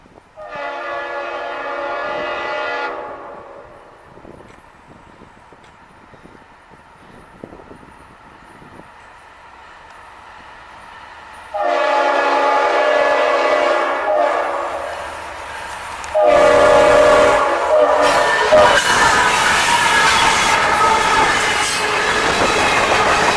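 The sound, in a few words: train passing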